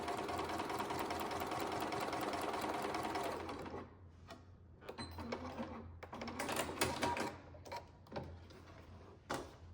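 A sewing machine top stitching fabric around the crown of a sou'wester sun hat runs steadily for a few seconds, then stops and restarts in short, uneven bursts, close up with no voices.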